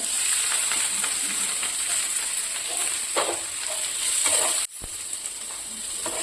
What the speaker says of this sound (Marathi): लगेच आता यामध्ये आपण हे कारलं घालू वाफवलेलं.